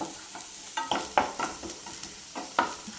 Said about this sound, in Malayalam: അതും കൂടി ചേർത്തിട്ട് വീണ്ടും നന്നായിട്ടൊന്ന് ഇളക്കി കൊടുക്കാം